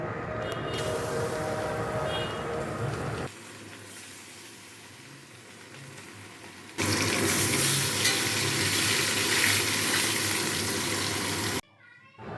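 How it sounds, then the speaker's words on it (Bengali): Fish rubbed with salt and turmeric frying one piece at a time in hot oil, giving a steady broadband sizzle that drops quieter for a few seconds, then surges louder before cutting off abruptly. "এবার মাছগুলো এক এক করে ভেজে নেব।"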